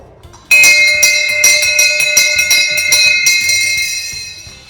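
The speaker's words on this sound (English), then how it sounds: "This is the teacher's bell." A bright school handbell rings steadily for about four seconds, its clear metallic tone repeating in quick strokes and ringing out close and loud.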